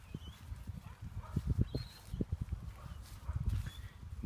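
A cattle herd walks in a tight pack near Mareeba, kept in line by dogs running behind and a farmer walking in front with a stick, giving a faint, irregular patter of hoof thuds close by, without talk.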